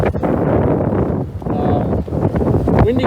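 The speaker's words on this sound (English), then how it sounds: "windy conditions, pretty choppy out here" Gusty wind buffets a sailboat with a reefed mainsail in choppy water on Labor Day, a loud steady rushing roar with brief lulls, close to the microphone and without talk.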